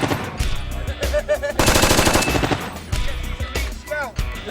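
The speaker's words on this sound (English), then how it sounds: "the chain gun or the minigun, call it what you want, it's a 30 cal weapon" A minigun firing blank rounds on a film set for a Doom movie lets out a loud, close, ripping stream of rapid-fire shots, broken by a brief lull before another burst.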